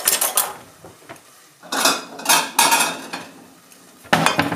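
White chilli being plated up into a bowl, with clattering ladle and pot clinks and scrapes coming in bursts, loud and close, with no voices.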